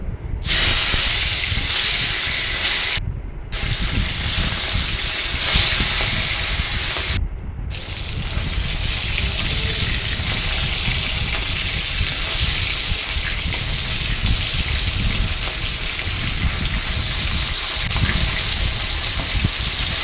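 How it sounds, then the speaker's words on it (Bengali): Hilsa fish pieces, rubbed with salt and turmeric, fry in oil in a wok, making a loud, continuous hissing spatter that runs unbroken with only brief dropouts. "তো মাছগুলোকে আমি এক এক করে ভেজে নিয়েছি"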